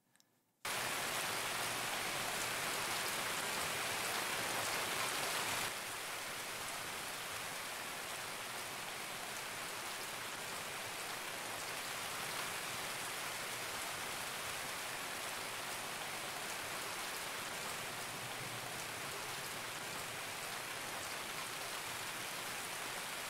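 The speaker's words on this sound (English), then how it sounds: "Without headphones, the rain's quite loud" Rain pours steadily in Escape from Tarkov, a loud, dense hiss that starts after a brief moment of silence and holds at an even level to the end.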